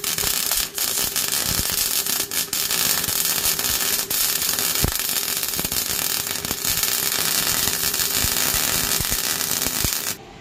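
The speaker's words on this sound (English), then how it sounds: "Just gonna go around and put tack welds on the corners" Tack welds on the corners of a Silverado truck frame, a dense continuous crackling buzz with scattered sharp pops, loud and close throughout.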